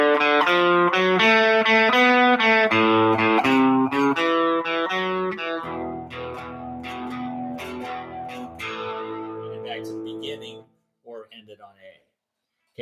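Electric guitar with distortion and chorus effects plays the closing four bars of a beginner blues riff, steady picked down-up rhythm of chords and notes, loud and close, fading out near the end.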